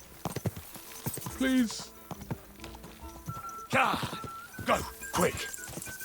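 A horse gallops in Kingdom Come: Deliverance 2, its hooves drumming quickly and near under a man's urgent spoken urging, with a brief snort or whinny among the hoofbeats.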